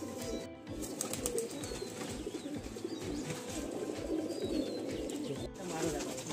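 Madrasi pigeons in a Kolkata loft coo continuously in overlapping low, throaty pulses, close and moderately loud, with occasional wing rustles.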